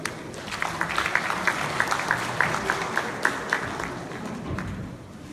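An audience at a literary forum claps to welcome the host, a sparse, moderately loud round of applause with a few distinct claps standing out before it thins toward the end.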